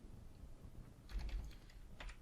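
Keystrokes on a computer keyboard, a quiet cluster of clicks in the middle and another short burst near the end, close and fairly soft.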